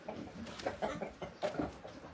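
Brahma chickens on a small farm in Cameroon give a run of short, irregular clucks at close to moderate range against a steady background murmur, with no voices.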